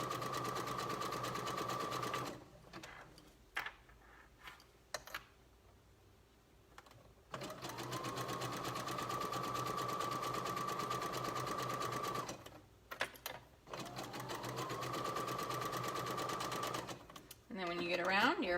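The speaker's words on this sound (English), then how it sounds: "And I'm using a zigzag stitch. And this is exactly how you would do it if you did not have a serger." Sewing machine zigzag stitching elastic onto a tankini, running in long steady bursts with pauses between runs, close and loud, with someone speaking briefly during the gaps.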